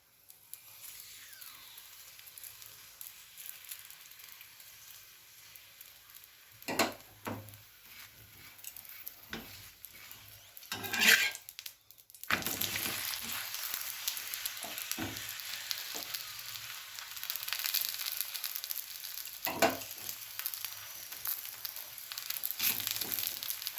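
A fennel paratha frying in a pan as oil is drizzled over it, a soft crackle that swells into a loud, steady sizzle, with occasional scrapes and taps of a spatula.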